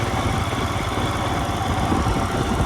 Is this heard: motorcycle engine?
yes